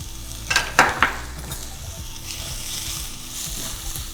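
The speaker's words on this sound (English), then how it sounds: "let's saute our aromatics. We have onions, we have garlic, we have some ginger" Chopped onions, garlic and ginger hit a preheated pot and start to sauté, opening with a few close metallic clanks and scrapes, then settling into a faint, even sizzle.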